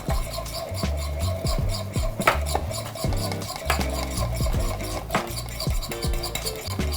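Whisk scraping and clinking against a metal pot while cheese mixture is stirred into a simmering macaroni-and-cheese sauce, a busy rhythmic run of metallic taps and scrapes, close and continuous.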